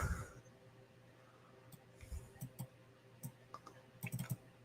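Faint, quiet clicks of keys being tapped, scattered and irregular, with a few quick clusters over a low background hum.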